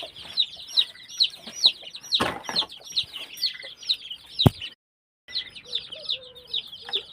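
A steady stream of high, thin peeping chirps from chicken chicks repeats in quick rhythm, with a brief flutter midway and a short pause near the end.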